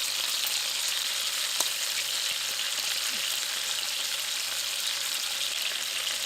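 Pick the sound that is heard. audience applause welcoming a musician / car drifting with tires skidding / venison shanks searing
venison shanks searing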